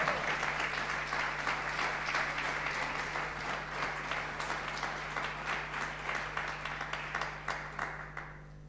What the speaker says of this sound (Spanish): usted hoy tendría que aplaudir la palabra de Dios